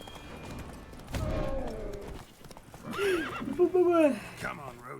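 Roach the horse in Witcher 3: Blood and Wine, a loud whinny with rapid hoof clip-clops of galloping, close and prominent, while a voice talks over parts of it.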